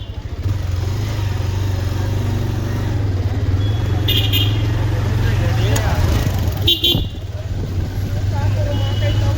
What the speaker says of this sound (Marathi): आता गाड्या फुल आहेत आणि ट्रॅफिक जाम झालेलं आहे